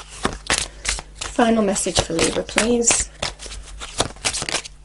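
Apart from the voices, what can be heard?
shuffling tarot cards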